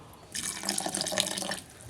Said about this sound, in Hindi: ਥੋੜਾ ਜਿਹਾ ਹੁਣ ਇਸ ਦੇ ਅੰਦਰ ਪਾਣੀ ਸ਼ਾਮਿਲ ਕਰ ਰਹੇ ਹਾਂ।